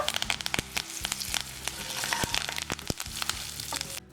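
Kasuri methi and curry leaves hit hot oil already holding browned cumin and fennel, crackling and popping loudly in quick, uneven bursts over a steady sizzle.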